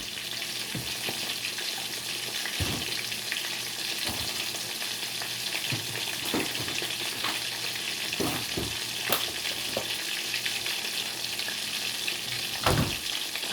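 Pollock fillets fry in almond flour in a hot pan, giving a steady, close crackling sizzle with occasional louder pops and scrapes of stirring, no voices over it.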